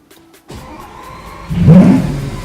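A Lamborghini engine cranks and catches, then swells into a loud, deep rev that settles into a powerful idle close by.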